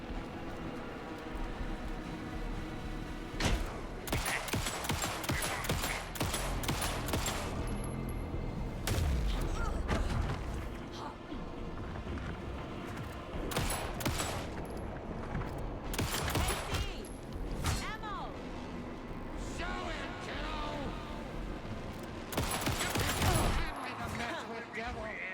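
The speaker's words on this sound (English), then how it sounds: "Anderson, pin him down with gunfire for me to get the light on him." Gunfire in the video game Alan Wake 2 crackles in dense bursts and single sharp shots amid game effects, with character voices speaking over much of the action.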